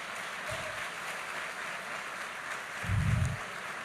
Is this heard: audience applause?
yes